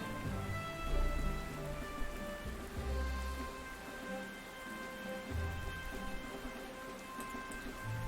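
Rain in the video game Panzer Corps patters steadily over a low musical drone, with a few soft thumps underneath; moderate and continuous, no voices.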